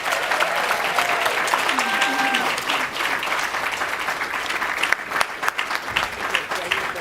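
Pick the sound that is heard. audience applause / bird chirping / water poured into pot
audience applause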